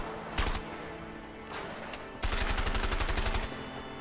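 Gunfire in the video game A Way Out: two short bursts of rapid automatic shots, then a longer sustained machine-gun burst, loud and close, with no talk over it.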